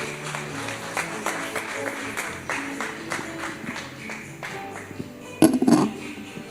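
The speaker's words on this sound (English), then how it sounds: "Once again, a round of applause for Mr. Alino da Cruz." Audience applause at the Dili International Trade Expo 2025 in Timor-Leste, a moderate spread of clapping carrying on steadily, with a brief louder burst of handling noise near the end.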